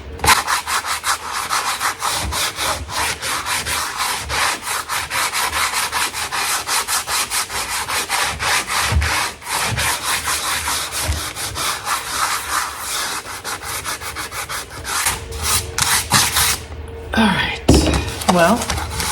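Painted wooden furniture is sanded by hand with steady, rhythmic rasping strokes, close and loud, continuing for a long stretch with a few brief pauses near the end.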